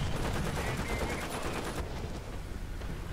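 Tank cannon and gunfire in the War Thunder video game, a dense run of rapid bursts and blasts filling the clip loudly and continuously, easing slightly partway through.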